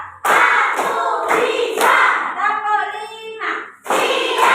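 An elementary school class claps hands together in a counted rhythm, several sharp bursts of clapping alternating with a teacher's voice calling out the counts.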